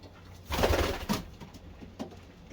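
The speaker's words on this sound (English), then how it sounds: "I'm super happy I was able to win that auction from Lou Coletta's on New Eye Pigeon" Pigeon cooing from a loft of racing pigeons, a few soft throaty coos close by, the loudest burst early and quieter calls trailing after.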